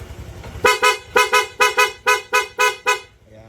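A loud aftermarket PIA horn on a Honda Click V2 motorcycle blares in eight quick, evenly spaced honks, close and piercing, then stops.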